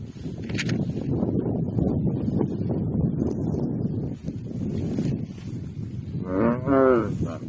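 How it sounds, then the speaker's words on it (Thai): A nine-month-old Beefmaster calf lowing on a farm, a long loud moo with wind buffeting the microphone, followed near the end by a second rising, wavering bellow. "สำหรับ ลูกวัวตัวนี้ก็อายุได้เก้าเดือนครับ"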